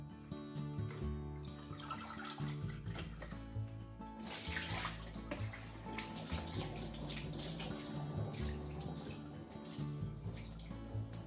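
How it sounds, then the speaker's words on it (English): Running water pours and splashes steadily in a sink while salad is drained, close and continuous, with a slight music-like hum in the background. "let's drain and remove all the excess water."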